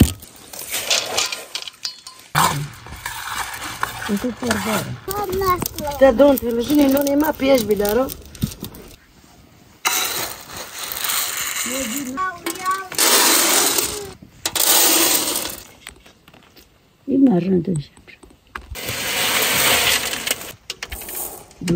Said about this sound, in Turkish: Çekirdekleri kırılıyor. Çok güzel bir ses çıkıyor.